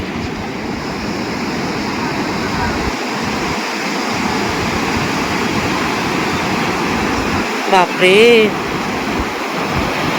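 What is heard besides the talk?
sea waves breaking on the shore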